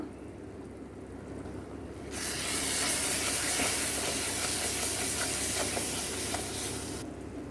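Crab curry masala with chilli powder sizzling in a pan for an Andhra crab curry, a steady loud frying hiss that swells after the first two seconds and holds with faint stirring scrapes.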